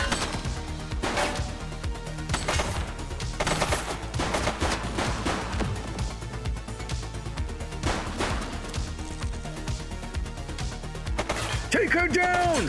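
Gunfire in The Precinct, a police video game: bursts of rapid, loud shots crack through a dense mix, repeated across the whole stretch, with game voices talking over some of it.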